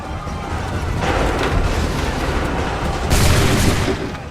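Two loud musket volleys crash out in Assassin's Creed III Remastered, the first swelling into a rolling roar and the second a sharper broad blast a couple of seconds later, over steady battlefield noise.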